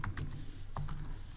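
Code typed on a computer keyboard, a few soft, quick keystrokes close by over a low background hum.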